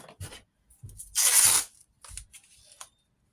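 Tape ripped off a fairy house model in one loud, quick tearing burst, framed by soft handling taps and rustles before and after.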